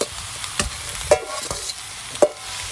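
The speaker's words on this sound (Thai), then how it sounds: "แต่ของผมจะคั่วก่อนครับคั่วให้มันมีกลิ่นหอม" Frog curry herbs and ingredients are dry-roasted and stirred in an electric pot, with a steady sizzle punctuated by repeated scraping stirs and clacks every half second or so, close and fairly loud with no talking.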